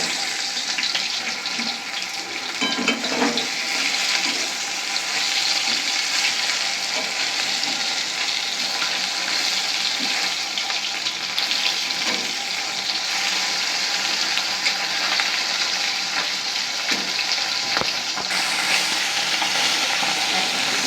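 Bata fish sizzle loudly in hot oil after being flipped, a dense continuous crackle and hiss close by, with stirring clatter and brief spatters, no speech.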